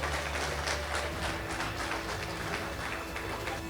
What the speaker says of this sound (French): Sous vos acclamations, sous vos acclamations